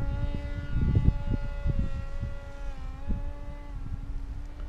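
An FT Explorer Sport Wing FPV model airplane drones overhead with a steady buzzing electric propeller whine, its pitch sliding gently as it circles, close and fairly loud with wind rumble.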